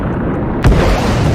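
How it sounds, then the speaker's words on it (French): In GTA RP, a single explosion bursts with a sudden deep boom over steady background noise, followed by a rumbling tail. "on va bien voir l'explosion dans la gueule"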